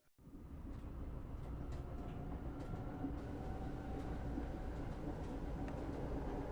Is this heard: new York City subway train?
yes